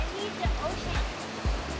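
Wind and ocean surf roar on a beach spit in Mexico, a steady broadband rush with gusty buffeting against the microphone, heard close and loud.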